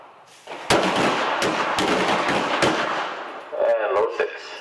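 Handgun gunfire during an LAPD qualification course: several loud, sharp shots ring out in a quick series, about four cracks close together over a noisy range, followed by fainter clatter.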